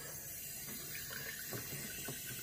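Water runs from a tap into a sink for hand washing, a soft, steady trickle with faint splashes, quiet and close with no talking.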